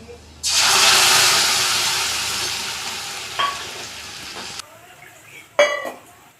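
Loud spice paste of ginger, dried red chilli and whole cumin sizzling and spitting in a hot frying pan over fried onions, starting abruptly and slowly fading, followed by a few clinks of a utensil.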